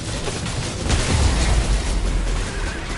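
A booming explosion in the video game Remnant, a deep rumble swelling after the first second and lingering as a low roar under steady game noise.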